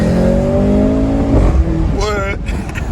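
A Mercedes-Benz C43 AMG four-cylinder engine pulls hard under acceleration, its rising drone climbing steadily before a gear change. An excited voice speaks over the engine near the end.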